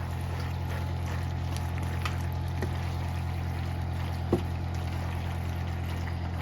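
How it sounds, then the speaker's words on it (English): A full cup of pasta water poured into a cheese steak pasta casserole, a soft steady trickling pour with faint splashes, low and continuous throughout. "I'm actually going to add the entire full cup of pasta water"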